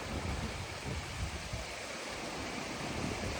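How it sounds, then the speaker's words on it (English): Waterfall in Iceland crashing with a constant, dense roar of falling water, loud and unbroken, with no voices over it. "the only thing that I was aware of, it felt like, was the crashing sound of the waterfall"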